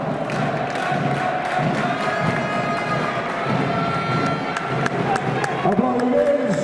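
Crowd applause and cheering fill a sports hall during the award ceremony of a junior basketball final, a steady dense clapping with some voices mixed in throughout.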